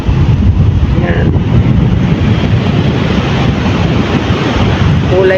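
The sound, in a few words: strong sea waves and wind on the shore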